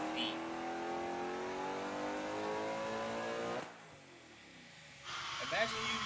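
Hellcat V8 swapped into a Nissan 350Z, revving hard with a rising howl, then dropping off sharply before picking back up, loud and close with some voices around it.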